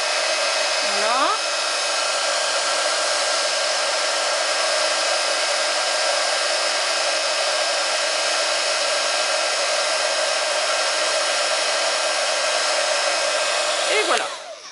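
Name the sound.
heat gun melting embossing powder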